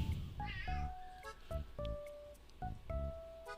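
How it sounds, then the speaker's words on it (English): Cats meow repeatedly indoors, about five drawn-out, clear meows in quick succession, fairly quiet and close, with no voices over them. "my cats are like meowing incessantly"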